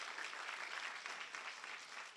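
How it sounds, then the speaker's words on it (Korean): Applause from the congregation at a chapel service, a steady, moderately distant wash of many hands clapping that holds evenly throughout with no speech over it. "이사장님께 다시 한번 박수 부탁드리겠습니다"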